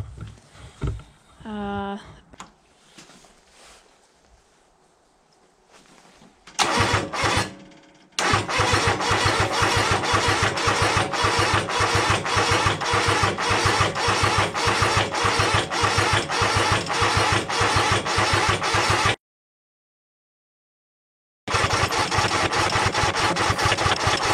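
Kubota G5200 engine in the cold, cranking over a few times after quiet voices and handling noises, then catching and running with a steady loud clatter, briefly cut off before resuming.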